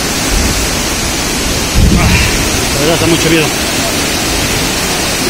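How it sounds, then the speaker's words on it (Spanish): The flooded river at the Pongo de Mainique gorge roars loudly and constantly, with a dense, close rush of water. Someone speaks briefly over it. "Miren cómo se encuentra el río."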